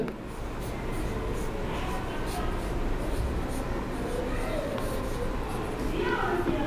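Writing during a maths class: a continuous soft scratching of pen or chalk strokes, steady and close, under a faint voice in the room.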